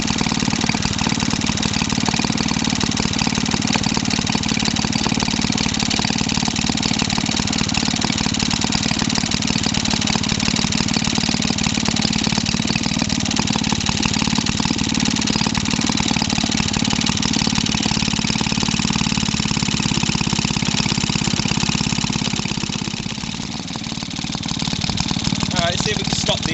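A Maytag 72 twin engine runs steadily while warming up, a continuous close chugging drone with little variation, its rhythm easing slightly toward the end.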